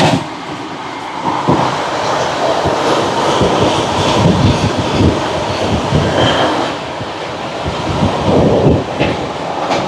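The Howrah–NJP Shatabdi Express runs at high speed, heard from an open door: loud, steady roar of wind and rumbling wheels with rhythmic clacking and occasional squeals throughout.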